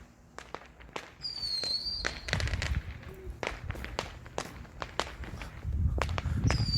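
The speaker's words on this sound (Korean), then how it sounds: "지금 뭐 모래사장 쪽에서 불꽃놀이 하시는 분들 계시네요" Scattered sharp pops and crackles of fireworks going off at a distance on a sandy beach, irregular bursts with a few whistling tones, over outdoor ambience.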